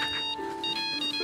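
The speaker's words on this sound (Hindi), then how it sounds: "तेरा फोन आ रहा है।" A phone rings with an incoming video call, a steady electronic ringtone with repeating tonal pulses, moderately loud and alone.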